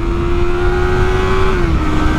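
2023 Yamaha MT03 motorcycle engine holding a steady, loud, droning note while leaning through a corner, pitch sagging slightly near the end, heard close with wind rush and no talking.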